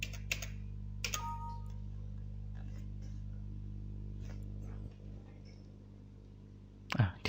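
Keys clack on a computer keyboard as login credentials are entered, a few sparse taps and presses over a steady low machine hum, ending with a louder burst of key clicks.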